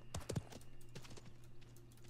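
Galloping horse hooves in the Realm Royale battle royale game, a few quick heavy thumps up front followed by lighter clops, fairly faint with no talk.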